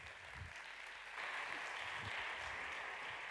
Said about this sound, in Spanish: Un fuerte aplauso para ella, que toma el escenario.